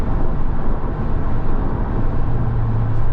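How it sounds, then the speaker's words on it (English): Steady, continuous road noise fills the cabin of a 2024 Chevy Tahoe RST, a heavy SUV, while it drives. The low rumble and broad hiss hold at an even, moderate level throughout, with no voices. "There's a little bit of road noise, which is typical. Like I can hear it like around the windows."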